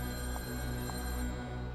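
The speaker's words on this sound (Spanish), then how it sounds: "de pronto sonó el teléfono" A telephone rings in a low, steady electronic trill with faint pulsing beats, sustained and moderately quiet under a humming background, with no talk.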